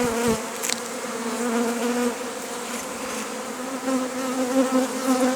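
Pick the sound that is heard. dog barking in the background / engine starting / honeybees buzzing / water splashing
honeybees buzzing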